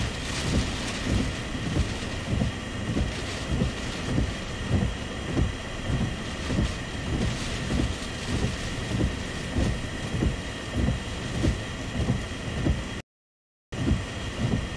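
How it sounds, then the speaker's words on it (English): Continuous roaring wind from Tropical Storm Gordon buffets the microphone over a rushing wash of waves, steady and loud throughout with a brief dropout near the end. "See the wind really like ripping the tops off of these waves now"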